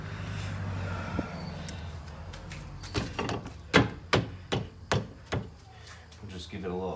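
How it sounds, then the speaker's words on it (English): A hammer strikes a vehicle's steering knuckle while it is being set into place during rear control arm work on an Enclave, Traverse or Acadia, a run of about six sharp metallic blows at an even rhythm that follows brief talk. "We'll just give it a little smack. Here's a hammer."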